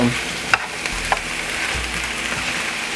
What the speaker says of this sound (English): I'm gonna stir that up